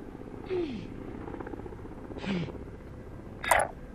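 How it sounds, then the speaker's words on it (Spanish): A hostile attack helicopter in the Call of Duty: Warzone battle royale gives off a continuous rotor drone, broken by a few short, sharp bursts of game sound. "Helicóptero de ataque hostil considero."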